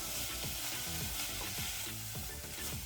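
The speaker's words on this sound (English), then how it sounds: "So go ahead and just saute those veggies in there" Onions and green peppers sauté in a pan for a Nicaraguan fish soup, giving a steady close sizzle with stirring scrapes and faint background music throughout.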